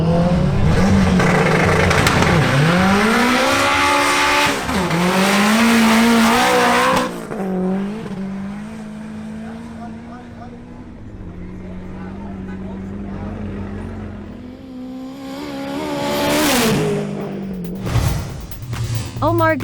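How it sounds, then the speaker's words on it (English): A Honda Civic with a turbocharged K24 engine makes a drag racing pass, its engine revving hard through rising gear pulls and shifts, then fading into the distance before a brief tire squeal near the end, with commentary over it. "Next to make a pass is Omar Gonzalez in his Honda Civic with a K24 turbo engine"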